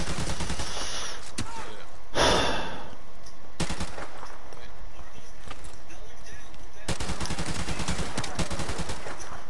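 Bursts of automatic gunfire crack through a Modern Warfare Remastered scrim match, coming in short clusters with gaps between them while a voice talks over the action.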